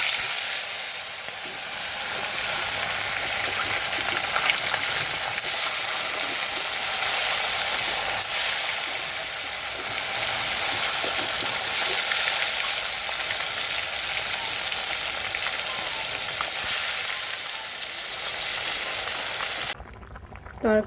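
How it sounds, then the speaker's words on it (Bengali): Bata fish frying in a pan, a dense steady hiss and crackle of hot oil running without a break, close and even, ending with a brief clatter. "এখন এই বাটা মাছটা ভাজবো"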